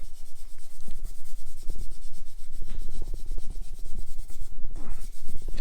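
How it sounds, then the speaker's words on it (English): A gray Scotch-Brite pad scrubs metal on a used Chevy 350 engine, giving a close, steady, gritty back-and-forth rubbing in quick strokes without pause. "A gray Scotch-Brite pad like this. Clean it up pretty good in there."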